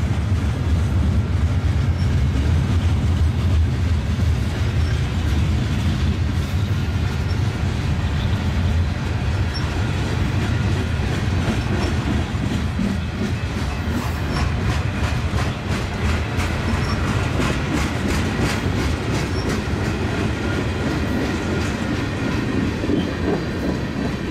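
A westbound Union Pacific mixed freight train rolls past, producing a loud, continuous rumble with steady wheel clatter and rail noise close by for the whole span, with no voices.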